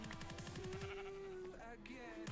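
A sheep bleats in Minecraft with a wavering, repeated call, first in a short pulsing run and then drawn out. A second bleat comes near the end over steady game background sound.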